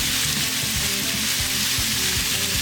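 Shrimp sizzle and fry in a hot pan with garlic, shallot and ginger, a steady loud crackling hiss running unbroken throughout with low clattering underneath.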